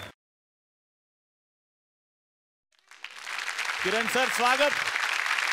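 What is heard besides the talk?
studio audience applause for actor Kiran Karmarkar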